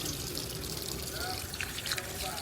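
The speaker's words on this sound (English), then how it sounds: "Always nice to have a nice faucet." A faucet at a hot tourist site near a Bali waterfall runs in a faint, steady trickle, with light splashing and soft ambient noise and no other clear sounds.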